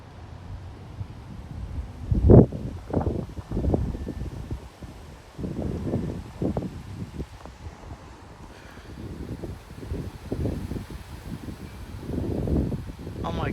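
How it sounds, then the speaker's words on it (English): A gust of wind rushes through two live oak trees in Frisco, Texas, giving a rising and falling roar of rustling leaves with microphone buffeting. A person talks over it at times. "Oh my goodness, that was a good gust on those two oaks."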